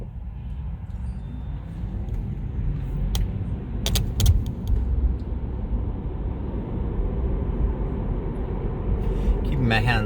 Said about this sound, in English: Okay, starting to get some cars around me now.